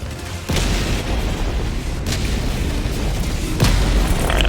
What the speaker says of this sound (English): It's shooting out meteorites.